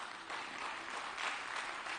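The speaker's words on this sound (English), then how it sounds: "Give them a round of applause." At a Dakar food sovereignty and resilience closing ceremony, a crowd gives a short burst of dense applause, a steady wash of many hands clapping for roughly two seconds.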